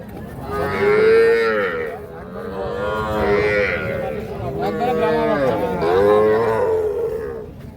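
At a village cattle market, a cow gives several long, loud, drawn-out moos in close succession, with crowd noise and voices behind.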